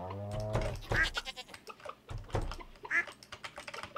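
A goat in Stardew Valley gives two short bleats about two seconds apart, close and clear, mixed with keyboard typing and a soft voice in the background.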